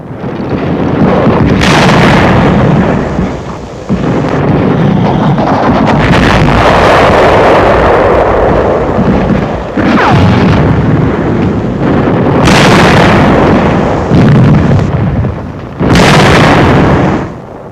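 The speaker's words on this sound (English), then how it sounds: "Jerry tank suffers a direct hit, and the crew leaps from the flames" World War II combat footage in which a German tank takes a direct shell hit, with loud booming explosions and heavy rumbling blasts that come in several bursts, overloaded and distorted, with wind-like roar between them.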